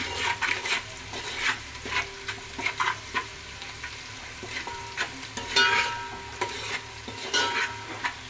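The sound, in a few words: onions with salt being stirred and sautéed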